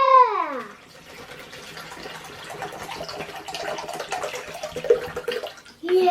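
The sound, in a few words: filling a Ziploc bag with water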